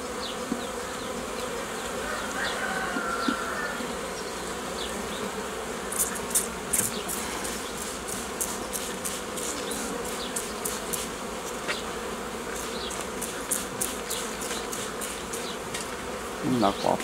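Honeybees buzz around an opened hive during work on the frames, a dense continuous drone with individual bees zipping close by in quick passes.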